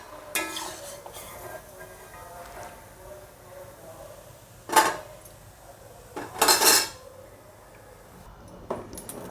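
Golden-brown fried pakoda are lifted from hot oil onto a plate, with a soft sizzle underneath and several sharp metallic clinks of a utensil against the pan and plate.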